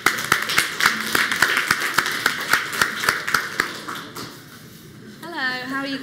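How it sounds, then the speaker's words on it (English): Rhythmic clapping from a small crowd, steady and fairly close, fading out before a voice begins speaking. "Big round of applause for them, guys."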